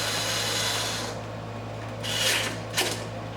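A hand tool tightens a bracket back into place on a custom engine cover, giving a couple of short scraping, ratcheting bursts over a steady background hum.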